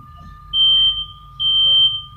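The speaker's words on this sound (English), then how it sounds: "as soon as I put it on here, you will hear a beep sound." A homemade fire detector gives two distinct electronic beeps, each about a second long, triggered when a lit matchstick is held to it; the tones are steady and clear over a faint background hum.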